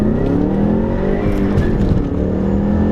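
A factory Ford Mustang EcoBoost accelerates hard in a first-gear roll, its engine note climbing steadily in pitch, loud and close from inside the car.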